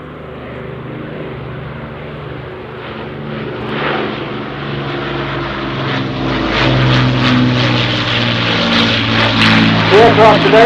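Avro Lancaster B1 bomber PA474 at an airshow, its piston propeller engines droning loud and steady as it flies past, the roar building and swelling toward the end over crowd noise and a voice.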